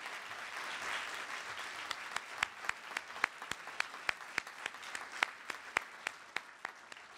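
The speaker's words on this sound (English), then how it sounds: "let's give one final round of applause to Mara here" A final round of applause for Mara at an ethics symposium, steady crowd clapping with distinct loud individual claps punctuating the wash at an even rhythm, moderately distant in a hall.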